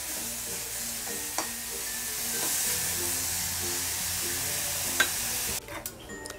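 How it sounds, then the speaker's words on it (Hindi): Spiced potato stuffing stirred and mixed in a hot pan for bread rolls, a soft steady sizzle under occasional scrapes and taps of a spoon, ending with a few louder clatters and no talking. "और इन सबको लेकर हम मिक्स कर लेते हैं अच्छी तरह से चला लेते हैं"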